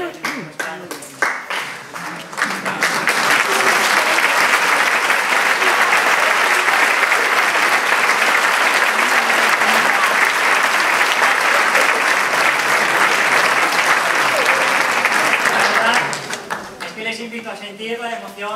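Sustained loud applause fills a hall after a band's concert, building after a few seconds of speech, holding strong for about thirteen seconds, then giving way to someone speaking.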